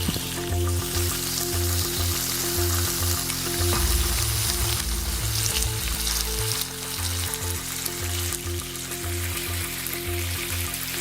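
Loud, close sizzling of food sautéing in beef fat in a pan, with occasional stirring scrapes and a steady low hum underneath.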